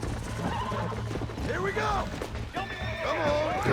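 In the video game Red Dead Redemption, a wild horse being lassoed and tamed whinnies and neighs repeatedly, close and loud, with clip-clop hoofbeats and voices underneath.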